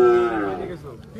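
A Sindhi bull calf about four to five months old lows at a cattle market in one short, close, falling moo, with a voice heard faintly at the tail end.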